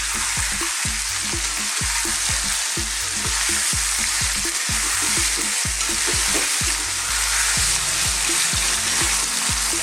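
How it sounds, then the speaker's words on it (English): Chicken pieces sizzle loudly in a hot pan, the steady crackle broken by repeated scraping thuds as they are stirred and tossed. "So I just want to fry this around for about 3 or 4 minutes"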